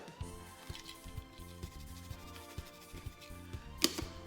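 Corn cake batter is stirred in a bowl, a spoon making soft squishing scrapes in a repeated close rhythm against faint background hum, ending in a brief sharper knock.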